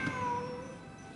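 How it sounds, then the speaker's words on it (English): A cat meows in a video game, one drawn-out, wavering cry that fades over about a second, faint and alone. "The cat's in the walls."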